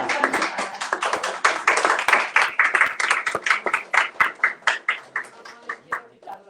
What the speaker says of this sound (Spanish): Aplaudir, por favor.